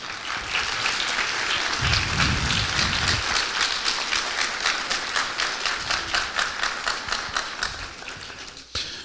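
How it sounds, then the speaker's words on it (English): A high school assembly audience gives sustained applause for the JROTC color guard, a loud, dense roar of many hands that settles into a faintly rhythmic clapping pattern before fading near the end. "Give our JROTC a round of applause."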